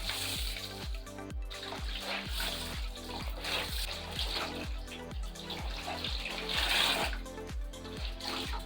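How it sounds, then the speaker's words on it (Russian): Soaked laundry being wrung out by hand in a basin of water, with steady rhythmic sloshing and dripping, repeated squeezes close up and fairly loud throughout. "теперь все вещи нужно отжать"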